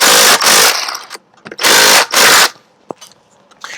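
An old Craftsman impact wrench rattles in loud close bursts while working on a Yamaha 6H1 trim and tilt unit, two doubled runs with short quiet gaps and a brief tap between, then light clicks, with no talk.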